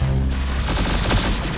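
Rapid automatic gunfire from a shooter video game, a dense burst of shots crackling continuously for just over a second, loud and close with no talk.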